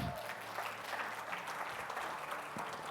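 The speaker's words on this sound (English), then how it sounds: "A round of applause, please." Conference audience clapping as a speaker is invited on stage at a hotel technology event, a steady even patter of applause held for a few seconds in a reverberant hall.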